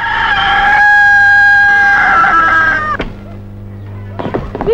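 A rooster crows loudly and close by, one long drawn-out cock-a-doodle-doo that fades out, followed by a few softer clucks and rustling.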